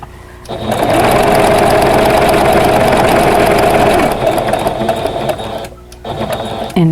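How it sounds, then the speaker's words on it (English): A sewing machine runs steadily for several seconds, straight-line quilting through pillow-cover layers with a walking foot, loud and close, with a brief dip in speed near the end and no talk. "I don't normally sew on or quilt on my sewing machine, so that's the only thing I'm comfortable with is straight line quilting"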